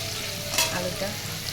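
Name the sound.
potatoes frying in pan with salt and turmeric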